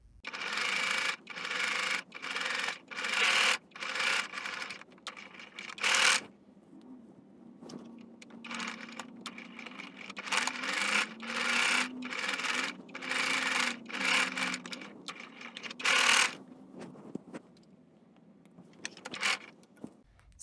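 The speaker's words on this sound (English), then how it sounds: "I'm gonna sew these patches on a 1/4 inch distance" A sewing machine stitches patches onto a designer fabric face mask in repeated short bursts of rapid, close mechanical whirring, with pauses between runs and some faint rubbing of fabric.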